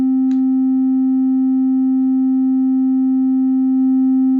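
A steady, pure sine tone from a VCV Rack virtual modular synthesizer oscillator holds unchanging at one pitch, with a brief faint chirp near the start and no voices.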